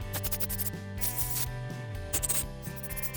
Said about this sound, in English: So after hitting it with carb cleaner, we're going to blow it out again.